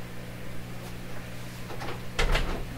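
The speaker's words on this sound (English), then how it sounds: "That's the sound of the door closing." A door closes at the end of a Canadian Marconi Model 93 radio session, a soft thud and rattle over a steady low mains hum, heard once near the end.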